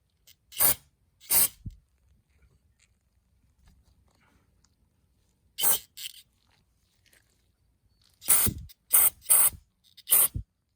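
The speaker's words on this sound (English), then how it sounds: "just spray a little bit" Several short bursts of aerosol cleaner sprayed onto a car's electronic throttle body, two early, one midway and a quick cluster of four near the end, with quiet pauses between.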